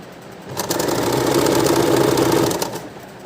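A sewing machine runs in one steady burst of rapid stitching for about two seconds, close and clear, sewing a round neckline binding on a blouse.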